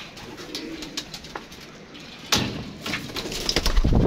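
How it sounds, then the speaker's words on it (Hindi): Pigeon held in the hand, giving soft cooing calls against a steady background hiss, with a few sharper handling rustles and knocks growing louder near the end. "ये कबूतर है दोस्तों"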